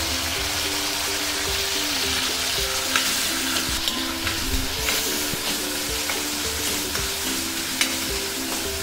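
Tomatoes cooking down in hot oil with salt for a spicy Maharashtrian ridge gourd bhaji, a steady loud sizzle and crackle running throughout, with occasional stirring scrapes and soft background music.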